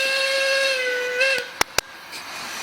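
A steam locomotive on a heritage railway gives a loud, sustained whistle over a hissing background, then the whistle cuts off and two sharp clanks follow.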